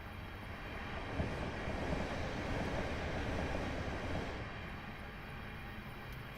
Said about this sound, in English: Seen lots of trains come through.